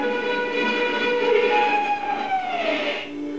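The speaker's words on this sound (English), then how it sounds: "with 200 miles to go, the train tore past" A train roars past close by, its horn blaring with a falling pitch as it rushes away.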